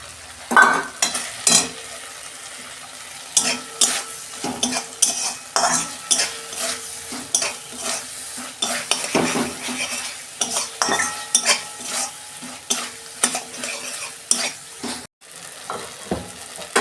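Eggplant stir-fried in the oil and spices of a bhola fish curry, with a spatula scraping the pan in quick, irregular strokes over a steady close sizzle; no one speaks.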